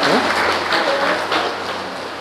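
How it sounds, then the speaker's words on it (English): Applause from a gathering of Caroni (1975) Limited sugar workers, a dense wash of clapping that starts loud and slowly fades over about two seconds, with some voices mixed in. "Give me a applause."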